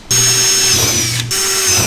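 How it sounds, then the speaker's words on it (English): An 8mm drill bit pre-drills holes through a front splitter on a Hyundai i30 Sedan N, a loud, close power-drill whine running steadily, cutting out briefly, then resuming. "take your 8mm drill bit and we're going to pre-drill some holes"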